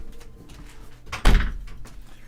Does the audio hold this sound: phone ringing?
no